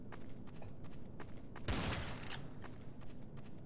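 Gunfire in Garry's Mod Trouble in Terrorist Town: a burst of shots near the middle, the loudest around the midpoint, with scattered game sounds and footsteps before and after.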